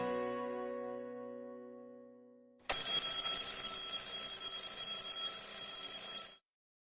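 An alarm clock rings in the morning: a fading tonal chime gives way to a loud, sustained electronic buzzing ring that cuts off abruptly, with no one speaking.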